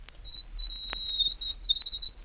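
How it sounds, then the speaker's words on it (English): Fingernails scrape a window pane at medium loudness, giving a thin, squealing whistle-like tone that holds and wavers with brief sharp accents, heard alone in a quiet background. "Nails on the window pane. Medium."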